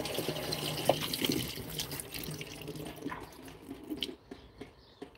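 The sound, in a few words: pouring a little water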